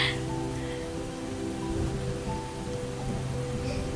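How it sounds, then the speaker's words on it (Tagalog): Rain falls without letup, a steady close patter of drops with a low, even hum underneath, continuous and moderately loud across the whole stretch. "Alam mo, non-stop yung ulan, no? Simula pa kagabi."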